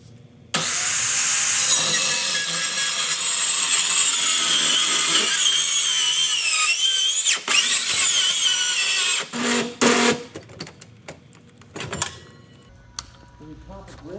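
A power saw cutting into a fireproof gun safe after a house fire, a loud, sustained high-pitched grinding screech of blade on steel, with pauses and bursts near the end and people talking.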